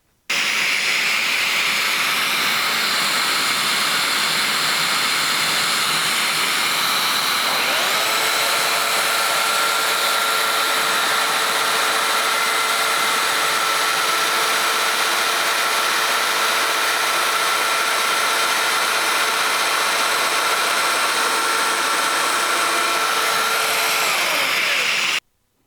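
A domino joiner cuts mortises into wood for a kitchen table, giving a loud, continuous motor whine and hiss that shifts in tone a few seconds in and holds steady for about twenty-five seconds.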